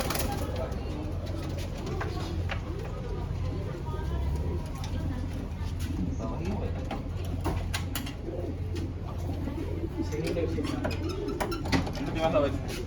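A racing pigeon coos in low, soft repeated rumbles, close by, under steady conversation between men handling the birds.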